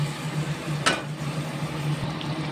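Okra dropped into a pan for sambar with simmering tamarind water, one sharp splashy hit followed by a low steady bubbling sizzle at close range.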